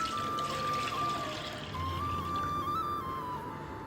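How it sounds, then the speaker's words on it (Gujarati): Half a litre of milk poured into a thick-bottomed pot, a steady continuous liquid stream running for several seconds at moderate level with no talking over it. "પછી આ અડધો લીટર દૂધ છે ને એને પણ આપણે એડ કરી દઈશું."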